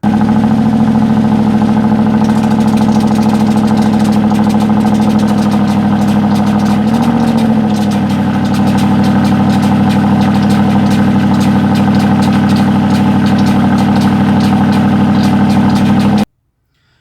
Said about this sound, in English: it started to make a really weird sound, which I recorded because I was trying to get a cold start recording anyway